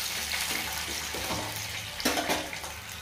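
Chana dal with mustard seeds, cumin, curry leaves and green chilies sizzling in hot oil: a steady, close frying hiss with a few sharper crackles and pops near the end.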